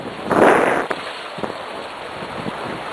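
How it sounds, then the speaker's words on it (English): Water splashes as rafting guides throw it into a raft on a river: one loud rushing splash near the start, then a few quieter slaps and thuds against wind and water noise. "Guides are throwing water for filling the raft"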